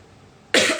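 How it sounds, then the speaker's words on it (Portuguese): A single loud, close cough from an adult with a flu, bursting out suddenly after a near-silent pause. "Por causa dessa tosse, dessa gripe, enfim."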